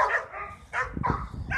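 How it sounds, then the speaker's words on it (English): Several dogs bark and yip in a garden, excited because another dog is present. Loud, close bursts in quick irregular succession, with a brief whimpering edge and short gaps between barks. "These are my dogs again, hollering because this dog's here."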